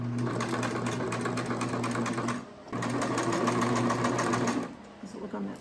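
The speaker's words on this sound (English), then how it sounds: "let's set up the sewing machine" A sewing machine stitching an upholstery seat cushion for a 1946 Willys CJ2A Jeep restoration, running in two fast, steady buzzing bursts split by a brief pause, loud and close.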